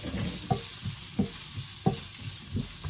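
Garlic puree and onion fry in a pan, with a steady sizzle broken by regular scraping stirs about every two-thirds of a second.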